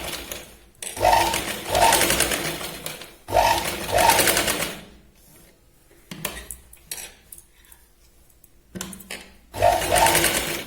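A sewing machine stitches the neckline of a katori blouse in several loud bursts of rapid whirring, each a couple of seconds long, separated by quiet pauses with small clicks and handling noises.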